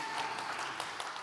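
Applause from the audience at a press conference for the FFI 2023 Citra Awards, a steady dense patter of many hands clapping at moderate distance, with no talk over it.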